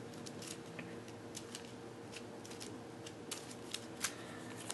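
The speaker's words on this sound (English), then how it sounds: "Now let me shuffle again." A deck of game cards is shuffled by hand on a tabletop, giving a run of quick, soft riffling clicks and snaps, close and fairly faint with no talk.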